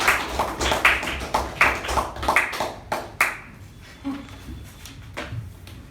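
A small Toastmasters meeting audience claps to welcome the Toastmaster, a few distinct close claps in a quick run that stops abruptly, leaving quiet room tone with a couple of stray sounds.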